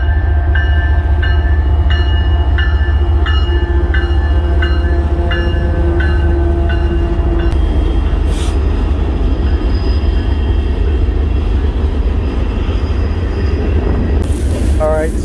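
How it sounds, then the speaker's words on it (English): A train passes close by, its loud continuous rumble and clatter of wheels on rails filling the scene, with a horn-like tonal blare sounding repeatedly in the first half before fading into steady rolling noise. "you probably can't hear much because of the train"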